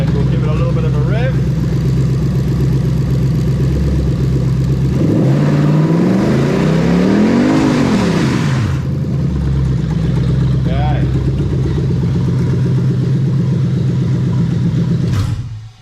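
A Toyota 1UZ-FE VVT-i V8 fitted in an IS200 idles loudly, then revs up and falls back once in the middle, a single rising and falling blip before settling to idle again.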